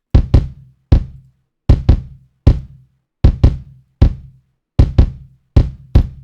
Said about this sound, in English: For the kick, I just added some oomph to it with the freaking the pretty fast distortion preset